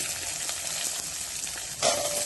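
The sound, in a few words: onions added to a pan, frying and sizzling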